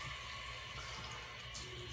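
A bathroom tap runs cold water for a rinse after shaving, a steady, soft splashing flow that continues evenly throughout, quiet and close, with no talking.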